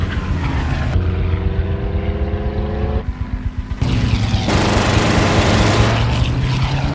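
World War II-style fighter planes in an aerial dogfight, with loud, continuous propeller engine drone and bursts of rapid gunfire, the engine pitch shifting as the aircraft chase and pass close by.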